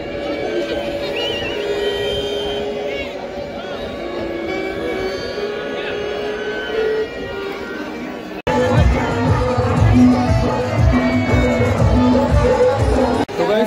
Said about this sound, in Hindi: कितनी ज्यादा भीड़ हो रही है यहाँ पे